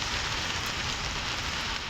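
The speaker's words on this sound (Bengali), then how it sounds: "রাত্রে এখনো বৃষ্টি হইতেছে" Heavy rain pours down at night in Kuwait, a dense, steady roar of drops hitting surfaces that stays constant and close throughout, with no voices.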